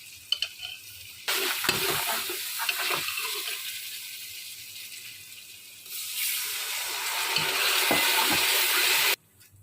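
Masala spices frying in a pan with a little water, for a white bean and chicken curry, giving a loud, steady sizzle with stirring scrapes that runs for several seconds, stops briefly, then swells again.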